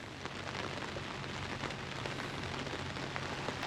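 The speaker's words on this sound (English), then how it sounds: "This is actually light rain compared to what it's been doing for the last, I'd say 12 hours, something like that." Light, steady rain falling outdoors over a newly installed gravel driveway beside an off-grid tiny house cabin, a dense, even hiss of drops with no gaps and no voices.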